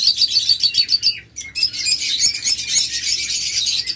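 Big pet birds, sold as pairs, chirp and tweet rapidly at close range, a dense, bright twittering of many overlapping calls with a brief lull before continuing.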